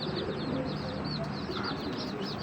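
Giribaz pigeons at a Bangladeshi loft coo softly under a dense, steady background hum, with faint repeated high chirps from other birds mixed in.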